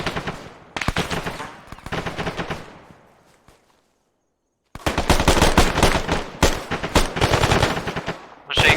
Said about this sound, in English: Machine gun north.